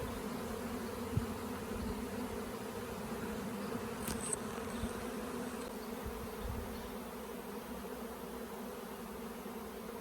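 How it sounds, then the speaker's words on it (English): Dense, continuous buzzing of a honeybee swarm escaping from an apiary fills the air, a steady droning hum with individual bees zipping past close by. "Like it's bees everywhere."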